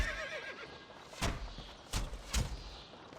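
A horse in the video game The Bard's Tale lets out a short falling whinny, followed by three heavy thuds like kicks or hoof strikes, with no speech.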